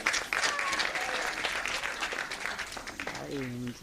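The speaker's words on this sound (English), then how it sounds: "Give him a round of applause." An audience applauds a show director on stage at a launch event for the '24' Season 2 trailer: a dense, steady wash of clapping with voices and crowd noise mixed in, and a voice rising near the end.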